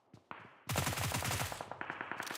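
Rapid automatic gunfire in a competitive shooter video game match, loud close bursts of fast repeated shots, with a second weapon joining partway through and no voices.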